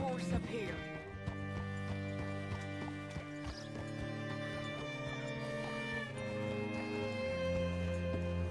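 Horse hooves clip-clopping in Red Dead Redemption 2, a soft steady hoof rhythm set beneath prominent sustained music, with a faint whinny and nearby game ambience.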